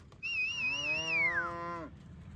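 A cow on a farm gives one long, drawn-out moo with a falling pitch, fairly close and clear over a quiet background, with no talking.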